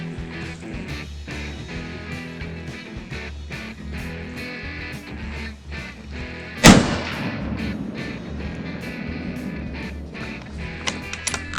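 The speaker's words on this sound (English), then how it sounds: "old Ma's gonna shoot first" A hunting rifle being sighted in for Pennsylvania rifle season fires one loud, sharp crack partway through, over continuous background music.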